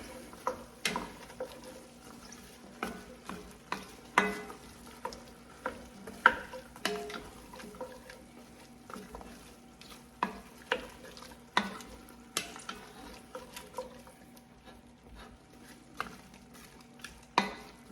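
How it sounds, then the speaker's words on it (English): Chopped onions for chili simmering in a pan over roughly medium-high heat, a low steady sizzle broken by regular sharp clinks and scrapes of stirring, fairly close and without talk. "We're going to add our onions. Okay, and let's let that simmer for a little bit."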